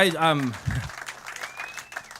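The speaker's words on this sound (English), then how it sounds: "I do appreciate applause during those times" At a concert in The Duncan Showroom, someone speaks briefly, then a small audience breaks into scattered, fairly faint applause that carries on to the end.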